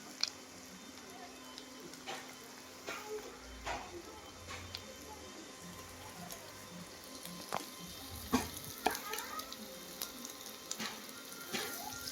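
Onions and masala frying quietly for a korramenu fish curry, a faint steady sizzle with occasional ticks and spoon clinks against the pan, plus a few soft low thumps.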